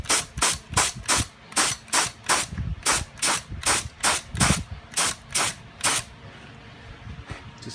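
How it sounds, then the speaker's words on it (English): Primer sprays from a spray gun onto scuffed car bodywork in about fourteen short, evenly spaced hissing bursts, close and loud, each burst stopping cleanly before the next. "We're just going to try to spray some primer on there."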